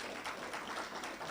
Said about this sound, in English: Please, can we get some applause